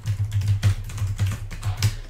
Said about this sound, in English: Here, I'll type it right here in the chat.